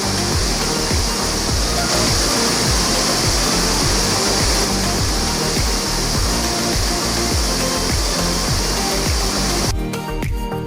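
Duwili Ella waterfall in Balangoda, Sri Lanka, swollen in the rainy season, roars as a loud, continuous, close rush of falling water that fills the whole scene.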